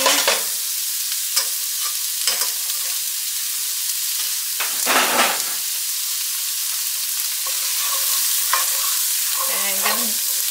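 A whole onion frying in sesame oil sizzles steadily, broken by stirring clatters and a louder scrape near the middle, with no voices.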